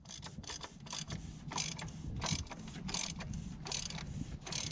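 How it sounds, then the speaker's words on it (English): A ratchet with a 36 mm socket tightening the oil filter cap on a 6.4 Powerstroke diesel engine, giving a quiet, close, rhythmic series of clicking strokes with no talk. "you can go ahead and fasten it down the rest of the way with the 36 mil"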